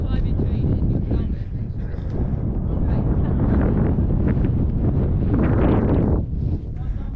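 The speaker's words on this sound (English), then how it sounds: "Don't know if you can hear that wind." Cold mountain wind buffeting the microphone on an Everest Base Camp trek, a loud continuous rumbling roar with gusts swelling and easing, a voice faintly mixed in.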